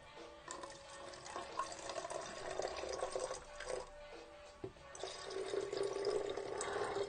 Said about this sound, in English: So I'm going to pour it out.